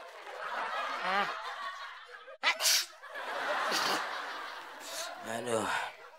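A person sneezes once, sharply and close, amid a comedic scene, surrounded by people talking, chuckling and snickering.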